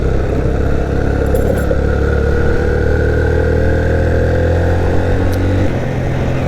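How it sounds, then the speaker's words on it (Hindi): A motorcycle creeps slowly over a rough mountain track near Babusar Top on the Naran to Astore route, its engine a steady, close, low-pitched rumble held at light throttle with no talking. "बहुत आहिस्ता से बाइक गुजार लें तो आपको कोई मसला नहीं होगा"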